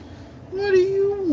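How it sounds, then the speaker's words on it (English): A domestic cat gives a single drawn-out meow indoors, close and fairly loud, rising into a steady tone and falling off at the end, with quiet room noise underneath and no talking. "Poor cat is just hanging out behind me, just meowing."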